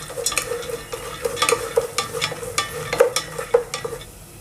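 Roasted gram (putnalu) fries in oil for a poha chivda snack mix, with a soft sizzle and repeated rhythmic scrapes and taps as it is stirred in the pan. No one speaks.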